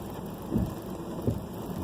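Rain drums steadily on a Volkswagen Tiguan driving along a wet road, a dense close hiss with tire wash and a couple of soft low thumps, no talk.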